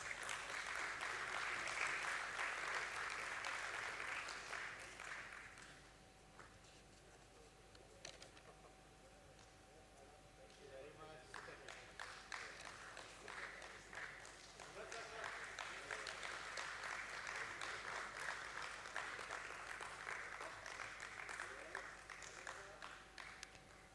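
Audience applause in a hall during a stock exchange listing ceremony for Borosil Scientific Ltd at BSE, a moderate, steady clapping that dips midway and then builds again, with a faint steady tone underneath.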